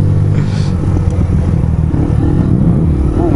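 Car exhaust revving nearby in traffic, a loud rough engine rumble that rises and falls with a few throttle blips and some rattling clatter.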